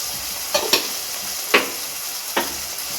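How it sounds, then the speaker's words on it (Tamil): Masala and turmeric sautéing in a pan for dry prawn kuzhambu, a soft continuous sizzle with a few sharp spoon scrapes and taps at irregular intervals, close and moderate in level, no talk. "இப்போ இதிலே நம்ம அப்படியே மசாலா போட்டு வதக்க வேண்டியதான்"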